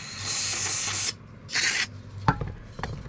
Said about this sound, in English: This is just carbon choke cleaner.